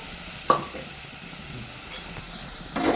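A soft, steady sizzle with a sharp splash-and-hiss near the start as tomato juice is added to a pearl spot fish curry pan, then quieter simmering and another swell of sizzling at the end.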